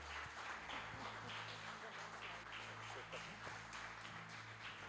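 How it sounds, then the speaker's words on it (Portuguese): A church congregation claps together in a steady, continuous roll, faint and distant, with a preacher's voice and background music blending underneath. "Aplauda o nome do Senhor."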